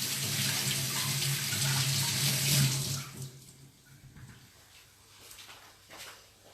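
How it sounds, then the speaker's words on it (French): Tap water runs loudly into a sink as zucchini are rinsed beneath it, a steady splashing stream for about three seconds before it shuts off, leaving faint drips and handling noises. "je vais les passer un petit peu sous l'eau quand même"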